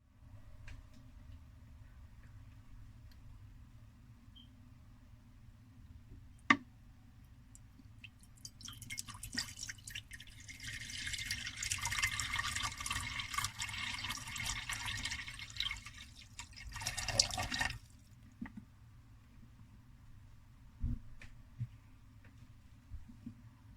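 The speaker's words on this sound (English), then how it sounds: "we'll just fill the water dish up and we'll get a nice close-up ASMR of it" Water pours into a pet snake's water dish close up, a steady splashing fill rising in the middle, with a few drips and taps before and after.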